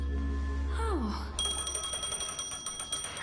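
An in-game phone rings in Honkai Star Rail, a rapid repeating electronic trill that starts after a sliding tone and continues steadily, moderately loud beneath game audio.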